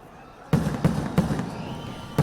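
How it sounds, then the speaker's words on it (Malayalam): Sample fireworks for Thrissur Pooram 2024, lit by the Paramekkavu side, boom in a string of five sharp blasts at irregular intervals over a faint crowd murmur. "പാറമേക്കാവ് വിഭാഗത്തിന്റെ ഭാഗത്തുനിന്ന് ആദ്യ സാമ്പിൾ വെടിക്കെട്ടിന് തിരികൊളുത്തി."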